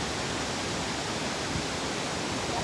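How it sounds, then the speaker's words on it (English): Reshap waterfall roaring steadily, a dense continuous wash of water crashing down, close and loud with no pauses or voices. "The sheer force of the water crashing down"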